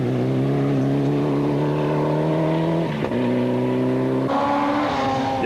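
Rally car driven hard on a special stage with the tail hung out, a loud close engine holding high revs with a sharp gear change near three seconds and another shift after four, with no talk.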